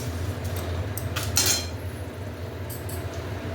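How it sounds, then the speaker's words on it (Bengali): A utensil stirs a tempering of bay leaf and dry red chillies in a pan in a home kitchen, making light metallic scrapes and a few clinks over a low background hum, with no voices. "ফোড়নটাকে একটু নাড়াচাড়া করে নেব যতক্ষণ না মিষ্টি একটা গন্ধ বেরিয়ে আসছে।"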